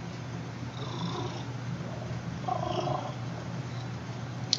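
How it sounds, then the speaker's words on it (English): A cat purrs softly and continuously up close, a low steady rumble that rises and falls with its breathing, faintly picked up with no talking over it. "Is that purr coming up on the mic at all?"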